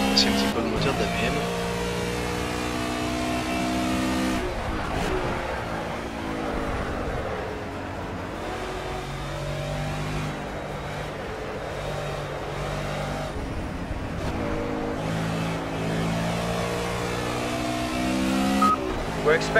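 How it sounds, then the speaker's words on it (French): A BMW GT touring race car in Project CARS at Silverstone revs hard through its gears, with rising and falling engine whine that breaks sharply at each shift, loud and close, with someone talking over it. "Je vais s'apprécier un petit peu le moteur de la BM."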